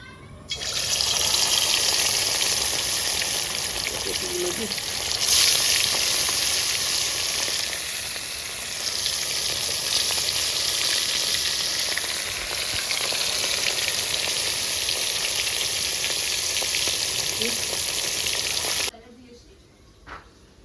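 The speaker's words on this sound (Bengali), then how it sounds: "তুমি শাক ভাজো, আমি মাছ ভাজি" Fish sizzles and crackles steadily in hot oil, loud and close, continuing without a break until it cuts off near the end.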